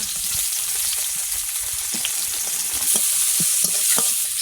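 Onion, garlic and chilli frying in oil in a pan, a steady loud sizzle running throughout, with scattered stirring knocks and clicks near the end.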